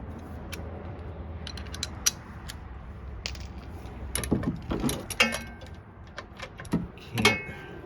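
Clicks and creaks of a socket wrench ratcheting while working on an old Chevy Blazer, coming in scattered bursts of sharp ticks with a few louder clusters, close by over a low background rumble.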